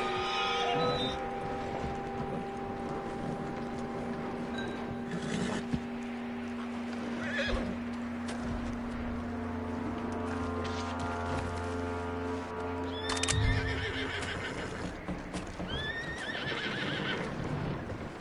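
Horse neighing and whinnying with clip-clopping hooves in the video game Red Dead Redemption 2, over a steady ambient drone, with a sharp loud whinny near the end.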